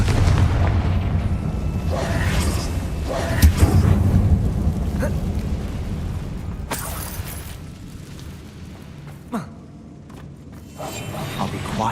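Confringo blasting spell explosions in Hogwarts Legacy, set in a closed mine resembling a tomb, boom in several heavy rumbling bursts with rattling debris, loud and close, fading toward quieter clatter.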